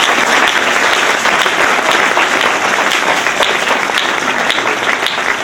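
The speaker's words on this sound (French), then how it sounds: "On acclame le Seigneur." A church congregation applauds during a deliverance service. The clapping is loud and sustained, with a dense, steady roar of many hands that lasts the whole moment.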